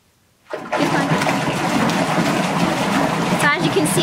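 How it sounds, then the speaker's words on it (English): A Lush bubble bar being vigorously stirred into bath water, a steady rushing churn of splashing water that starts abruptly and continues loud and close without a break. "he's just vigorously stirring the water up"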